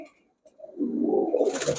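Pakistani highflyer giribaz pigeons cooing close by, a soft low murmuring coo that starts faint and swells into a steady, continuous burble lasting over a second, with a brief hiss at the end.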